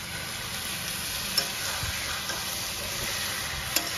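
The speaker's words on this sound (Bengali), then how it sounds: "এবার এর মধ্যে আগের থেকে সেদ্ধ করা বাঁধাকপিগুলো দিয়ে দেবো।" Boiled cabbage and green peas frying in a pan with turmeric for a fish-head cabbage dish, a soft steady sizzle and hiss with a couple of faint knocks, no talking.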